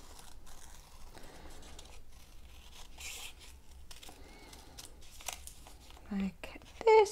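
Scissors snipping out a rough paper circle for a Disney Tsum Tsum Donald Duck bookmark: soft, close, irregular cuts and rustling paper, faint and intermittent, while a voice speaks quietly.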